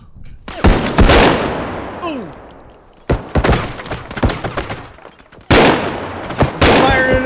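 Heavy, close gunfire in the video game BodyCam, three loud bursts of rapid shots separated by brief pauses, each ringing out with echoing decay, with a voice briefly audible.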